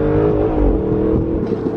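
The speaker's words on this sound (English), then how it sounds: "We got a Porsche behind" A Porsche drives close behind on the road, heard as a steady, loud engine drone with a slight rev, with voices talking over it.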